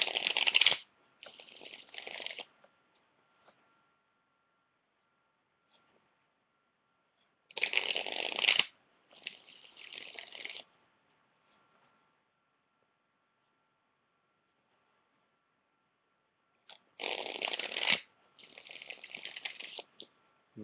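Tarot cards shuffled in three separate bursts of riffling and patter, each a few seconds long, with quiet pauses between and no voices.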